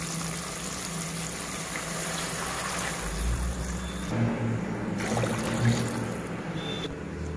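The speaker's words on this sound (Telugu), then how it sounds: "ఇప్పుడు 4 గ్లాసులు వాటర్ వేసేసాను దీంట్లో." Four glasses of water are poured into a pan while making cashew upma in a home kitchen, a steady low rushing and gurgling fill with faint background hum throughout.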